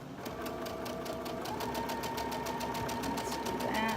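A sewing machine runs steadily while stitching a scant seam on a quilt block, its rapid needle action rattling continuously at close range with no talk over it.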